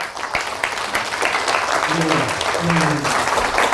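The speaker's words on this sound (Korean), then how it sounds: "다시 한번 큰 박수로 경례해 주시기 바랍니다" Audience applause follows a history lecture by a speaker from the Daehan Sarang organization at a Daejeon branch talk, a dense continuous clapping from a crowded hall that rises and holds steady, while an emcee's voice speaks over it.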